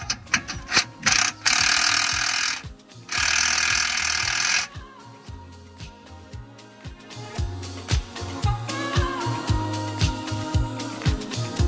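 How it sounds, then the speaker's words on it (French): Wrench being turned on the screw of a car jack under a Golf 4, a close series of rapid ratcheting clicks and metallic knocks, with bursts of steady grinding whir between them, no talk. "on met la vis. Une fois qu'on tombe en face, on fait quelques tours à la clé"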